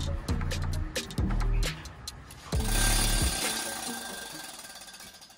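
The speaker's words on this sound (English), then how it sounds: "Best thing about the planishing hammer is how quiet and soothing it is." A planishing hammer shaping sheet metal in a hot rod and lowrider build shop gives loud, rapid bursts of metallic pounding, each run starting and stopping in a rhythm, then a harsh sustained hammering, heard close with no talk.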